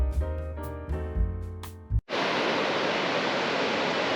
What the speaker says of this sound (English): This is called Stevens Creek here.